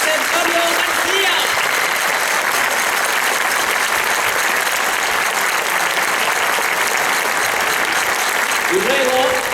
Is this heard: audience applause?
yes